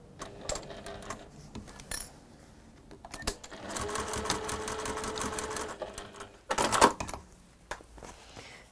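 A sewing machine stitches through fabric in bursts of rapid mechanical whirring, stopping and starting, with small clicks and handling noises between runs, close and moderately quiet.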